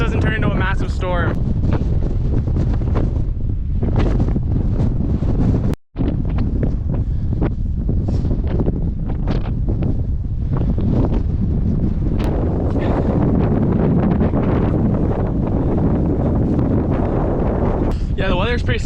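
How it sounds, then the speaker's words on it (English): Heavy wind roars and buffets the microphone almost continuously on a high outdoor trail, with a brief dropout partway through and a voice talking underneath. "getting hella buffeted by the wind up here"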